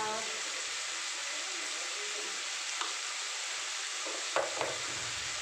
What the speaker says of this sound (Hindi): इतना कुछ डालेंगे और इसको अच्छे से मिला लेंगे, भून लेंगे।